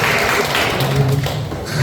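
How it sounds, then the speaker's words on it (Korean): An audience at a Sunday lecture gives a short burst of applause, dense close clapping with some thumping taps. "큰 박수 부탁드립니다."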